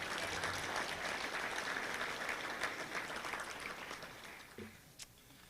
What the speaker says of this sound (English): let's give them a round of applause if we could real quick